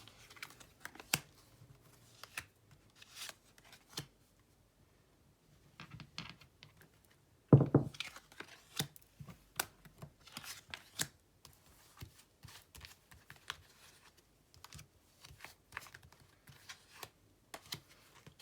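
Tarot cards shuffled by hand give quick, soft riffling bursts and taps in irregular clusters, close and fairly quiet, with brief pauses between rounds.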